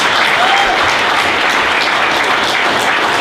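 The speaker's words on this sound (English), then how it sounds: "Give a shout out, give a round of applause" A tech meetup audience applauds a team member, dense continuous clapping from a large crowd, loud and sustained, with no voices over it.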